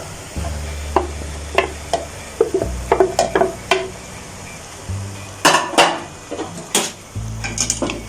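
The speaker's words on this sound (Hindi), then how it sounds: "अब ये फ्राई की हुई सारी भिंडी इसके अंदर ऐड कर देंगे।" Fried okra is stirred into spices in a pan for chatpati bhindi bhujia, with a spoon scraping and clinking against the metal in irregular bursts over a low sizzle, close and fairly loud.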